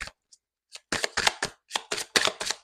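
Tarot cards are shuffled by hand in a series of crisp riffling bursts, a few faint taps first, then about seven quick ruffles close to the mic with no talking.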